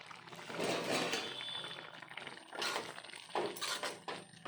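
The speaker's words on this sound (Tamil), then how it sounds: "கொதி வந்துருச்சு." Cabbage and dal curry without tamarind comes to a boil in a pot over a village cooking fire, with soft, steady bubbling and a few brief louder liquid bursts. No one speaks.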